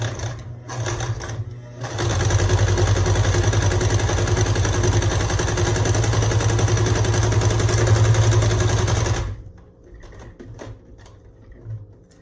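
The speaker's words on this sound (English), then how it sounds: "sew across your 6-inch sides, both of them, straight across about 1/4 of an inch from the edge, just a straight seam" A sewing machine runs a straight seam across a fabric face mask, a loud, fast, even mechanical whir that lasts about seven seconds and then stops, with a few short stitch bursts before it and quieter handling after.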